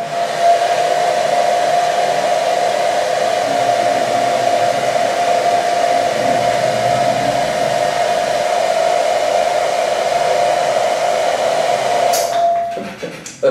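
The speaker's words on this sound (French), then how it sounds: "Pour aérer le gâteau, il vous faut un accessoire très simple, que vous avez tous chez vous. Un sèche-cheveux." A hair dryer blows air into a cake mixture with a loud, steady whirring drone and a constant whine, running unbroken for about twelve seconds before it is switched off and cuts out abruptly.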